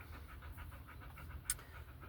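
A dog pants close by in quick, rhythmic breaths, a soft steady huffing that carries on for the whole two seconds, with one brief sharp click partway through.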